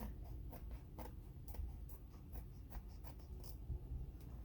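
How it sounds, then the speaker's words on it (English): Trimming the paper edge of a greeting card made from upcycled calendar pages, heard as a series of faint, rhythmic scratchy snips and rubs close by, quiet and without speech. "I have a little bit of an edge. I'm just going to trim that up a little bit"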